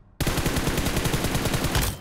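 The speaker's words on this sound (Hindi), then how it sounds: "टावर से अंधी फायरिंग हो रही है" Gunfire from a tower in the BGMI battle game comes as a loud, rapid burst of automatic shots, a dense rattle of evenly spaced cracks lasting nearly two seconds before cutting off.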